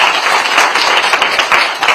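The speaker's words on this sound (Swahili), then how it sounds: "Tupigie makofi." Audience applause at a live televised gathering in Kenya, dense steady clapping from many hands, loud and close, with no talking over it.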